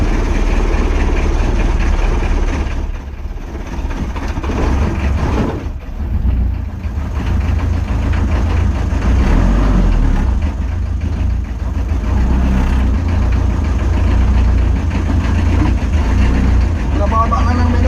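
A low, steady boat engine drone idles throughout, loud and close, with a chugging undertone.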